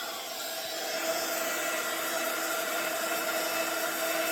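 A heat gun melting embossing powder gives a steady, loud, close airy whir and hiss that holds unchanged throughout, with no voices over it.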